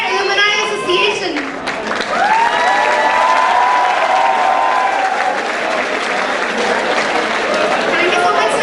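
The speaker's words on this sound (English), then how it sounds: "Give a huge round of applause to this guy" A college freshers' week audience applauds a scholarship winner with loud, sustained clapping and cheering that fills the hall, mixed with crowd voices.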